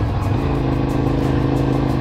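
A Cagiva Raptor motorcycle engine runs steadily while being ridden, a loud, close, throaty drone with a continuous low rumble and no voices.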